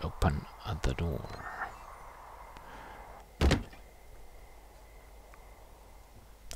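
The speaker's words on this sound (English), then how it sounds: "And open the door." A door opening in the video game Firewatch, with a cluster of clunky knocks and thuds, then one louder thunk, over quiet ambience with faint background sounds.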